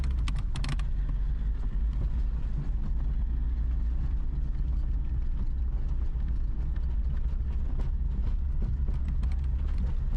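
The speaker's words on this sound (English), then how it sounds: "time for a test drive of the restored Fortnite sports car" A restored Lamborghini sports car in Fortnite drives along with a steady, continuous engine drone and road rumble, mixed with light clicking taps throughout.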